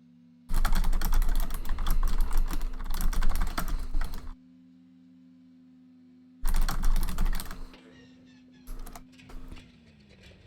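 Rapid typing on a computer keyboard, close and loud, in two long bursts separated by a pause, then a few scattered keystrokes, over a constant low hum.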